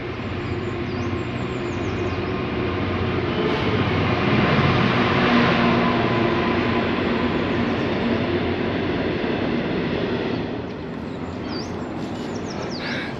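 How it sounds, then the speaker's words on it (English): A Class 66 freight locomotive hauling a load of steel passes beneath a tunnel vent near Corby, a loud, sustained hollow rumble that drops away near the end, with faint birdsong above. "That was the sound of a Class 66 with a load of steel bound for Corby Steelworks."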